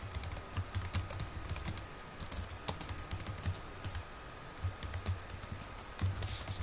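Quick, irregular clicking of keys on a computer keyboard as Java code is typed, close and clear, with short pauses between bursts of keystrokes.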